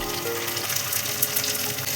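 Prawns sizzle steadily in hot coconut oil in a pan, a constant close frying hiss with small pops throughout.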